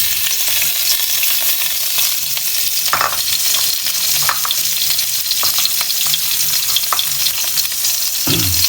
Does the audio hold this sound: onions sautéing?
yes